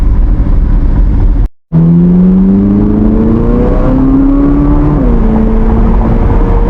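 A 2024 Chevrolet Corvette Z06 C8 engine revs in a rising, climbing tone, loud and close from inside the car, after a brief gap of silence.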